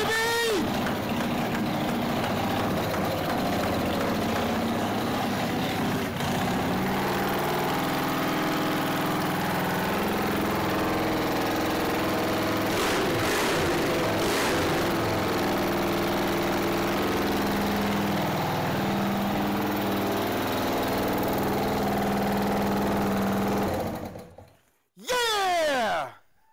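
A Harley chopper engine, newly fitted with exhaust and an adjusted carburetor, runs steadily at a loud, close idle for most of the span, then cuts off abruptly before a brief restart near the end.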